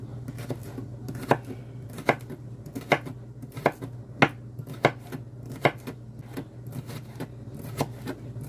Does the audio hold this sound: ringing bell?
no